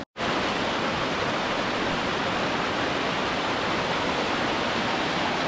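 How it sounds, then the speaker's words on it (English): A small chute of water tumbling through a forest at Cathedral Falls, a steady, dense, close rush that fills the whole stretch without a break. "A gorgeous little chute of water that makes a magnificent sound in the forest."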